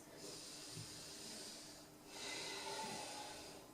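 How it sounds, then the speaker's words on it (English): Slow, deep breathing during a yoga stretch: two long, soft, airy exhalations, faint and close, with a brief pause between them and no talk. "Deep breaths."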